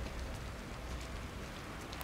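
Steady rain falls in The Evil Within, a Thai-language playthrough of chapter 1 near a deserted police car, making a continuous broadband hiss with no break or clear drops and no voices heard.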